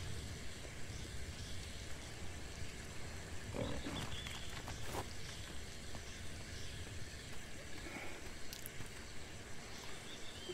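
Pigs grunt in the ATLAS video game over a steady rumble of wind or ambience, with scattered short snorts and a few brief louder bursts mid-clip. No one speaks.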